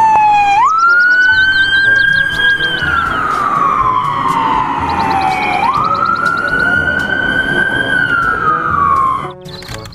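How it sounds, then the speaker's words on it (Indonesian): A toy ambulance's loud electronic siren wails continuously, sweeping up and down in pitch with a high warbling tone, close and clear throughout. "Di sini ada mobil ambulans."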